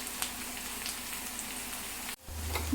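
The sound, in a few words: onions frying in a pan until reddish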